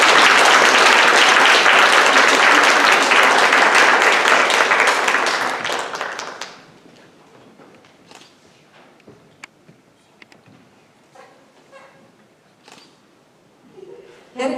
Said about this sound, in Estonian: Teeme veel kord lauljatele aplausi.